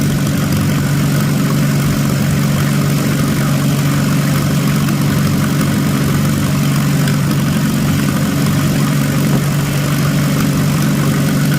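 An old tractor engine, its carburetor just adjusted, idles at its lowest setting with a loud, close, unbroken low drone that stays even for the whole stretch.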